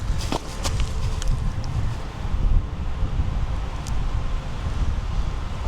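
On a windy day in the woods, wind roars steadily through pine trees, with a loud, continuous rushing and low buffeting against the microphone and a few faint clicks near the start.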